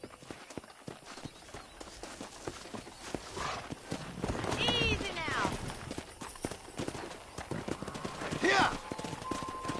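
Wild horses in a Red Dead Redemption ranch scene: rhythmic hooves clip-clopping and galloping throughout, with a couple of loud neighs and whinnies rising midway and near the end, under a man's spoken lines.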